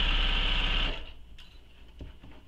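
Domestic sewing machine stitching a handbag runs in a loud, steady close-up whir for about a second, then stops, leaving faint handling clicks and rustles.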